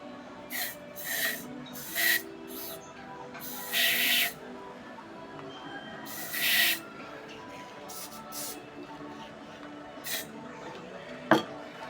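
Short hissing bursts of an oil spray can fired into an air gun, several separate puffs of varied length spaced through quiet surroundings, close and moderately loud, ending with a sharp tap.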